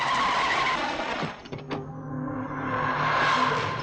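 A car brakes hard and its tires squeal into a skid, the loud screech dipping briefly before a sustained grinding slide to a stop, close by and with no voices.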